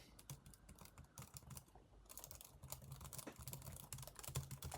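Rapid, irregular clicking of fingers typing on a repaired laptop keyboard, close and quiet, with no talking.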